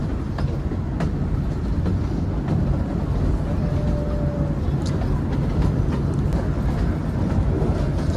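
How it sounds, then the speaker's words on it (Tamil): The Ooty toy train rumbles steadily along the lakeside with a continuous low clatter, close by, with light wind buffeting the microphone throughout. "குளத்து ஓரமாக போயிட்டுருக்கு இந்த ட்ரெயின் பார்த்தீங்கன்னா."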